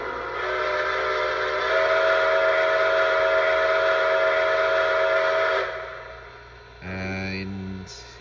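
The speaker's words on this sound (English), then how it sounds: "So here's the first whistle." A Lionel Legacy Blue Comet 10 Wheeler model train's steam whistle blows in one long steady tone for several seconds, then a brief lower second blast follows after a short pause.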